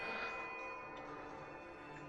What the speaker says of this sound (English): comes an insistent ringing.